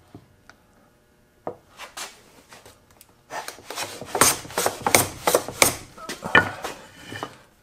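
A hand plane shaves end grain from the sawn ends of trestle horse boards, giving a run of dry rasping strokes that start sparse and grow into a steady rhythm of close, fairly loud passes.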